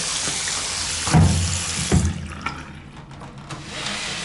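Water runs from a bathroom tap in a steady, close hiss with a few brief knocks and bumps; no one talks.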